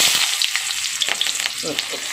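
Dried red chillies, black cumin and a chopped onion hit hot oil in a pan, giving a busy, close sizzle with crackles and a few scraping stirs, no voices.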